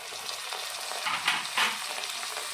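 Ginger garlic paste sizzles in hot oil with onions, a steady close fry with a few stirring scrapes, for mutton curry made in a pressure cooker.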